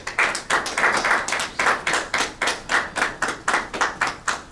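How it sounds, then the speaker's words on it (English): An audience claps for the Chairman of the Board of Trustees at the Nigerians in Diaspora Chamber of Commerce grand launch in Lagos: steady, close, rhythmic applause in even repeated bursts, with no talking. "Let us give him a round of applause."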